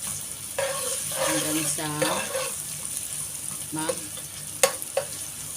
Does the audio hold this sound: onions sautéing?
yes